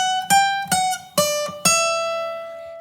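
Electric or acoustic guitar playing a short riff from The Office theme: four plucked notes ringing out one after another, the last left to sustain and fade, heard alone and close.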